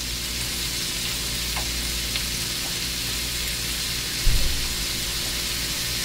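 Zucchini noodles and mushrooms cook in a pan with a constant, even sizzle, close and steady, with a brief clunk of a utensil near the end and no talking.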